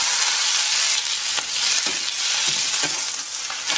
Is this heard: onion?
yes